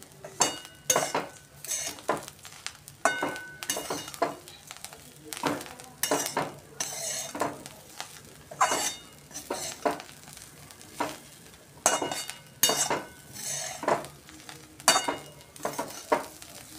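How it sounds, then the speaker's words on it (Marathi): Nagpur-style sambar wadi filling of gram flour stirred in a pan, a continuous faint sizzle beneath repeated scraping strokes and metallic spoon clinks on the pan, close and rhythmic throughout. "पुन्हा आपण हे सर्व मिक्स करून घेणार आहे."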